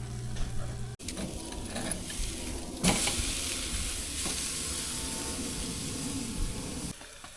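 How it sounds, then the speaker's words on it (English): Flank steak sizzles steadily on a hot grill, a close, continuous hiss and crackle that briefly cuts out, then returns louder and more intense for several seconds without any talking. "one of my favorite things about grilling a flank steak"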